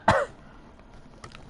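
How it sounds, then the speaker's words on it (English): A single short, sharp cough right at the start, close and fairly loud, followed by quiet room background. "you will have to cope with me coughing a little bit"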